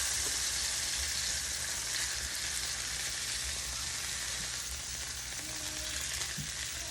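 A steak fries in a frying pan with a dense, steady sizzle and crackle that stays fairly loud throughout, with faint clinks near the end and no talking.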